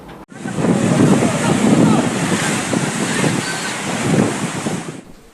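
Large sea waves crash and surge in the waters off Sungsang, Banyuasin, where a fuel tanker carrying 46 tons of diesel sank; a loud, continuous roar of surf with wind buffeting the microphone, swelling and easing over several seconds.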